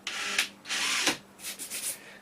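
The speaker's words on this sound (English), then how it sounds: "make a hole with a small drill" Small power drill boring a pilot hole in a kitchen cabinet door, with three short whirring bursts of varying length close by and no talk.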